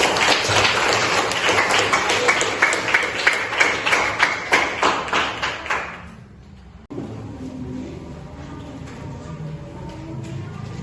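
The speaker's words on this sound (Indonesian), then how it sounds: "Tepuk tangan buat kelompok kelompok." A classroom crowd claps steadily for several seconds, the applause fading out, followed by quieter room noise and faint voices.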